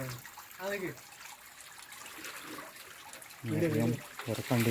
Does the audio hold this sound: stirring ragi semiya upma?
no